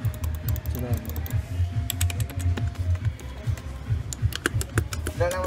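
Rapid clicky typing on a computer keyboard rattles in quick irregular bursts close by, with people talking casually over it.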